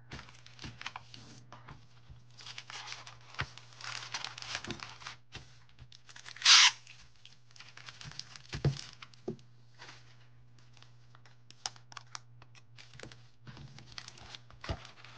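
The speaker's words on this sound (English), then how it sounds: "Now let me go ahead and package this up." Etsy order being packaged by hand: paper and plastic crinkling, rustling and tearing in irregular bursts, one sharper rip near the middle, quiet and close over a low steady hum, no talk.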